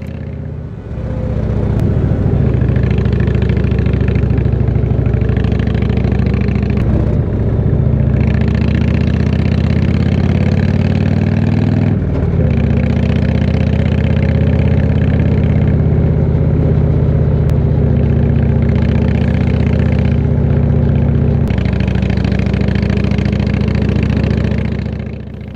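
A heavy motorcycle climbs over the Passo di Croce Domini mountain pass in Lombardy. Its loud, close engine drones steadily, dropping briefly at several gear changes before pulling again, with no talk.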